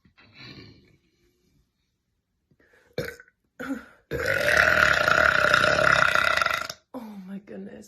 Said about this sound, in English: Like, how do I stop burping?